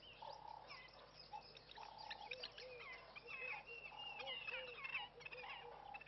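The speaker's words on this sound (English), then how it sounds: "Diederik cuckoo calling way in the distance." A Diederik cuckoo calls far off at an African waterhole, its faint repeated notes woven among a chorus of other chirping and whistling birds in a quiet outdoor setting.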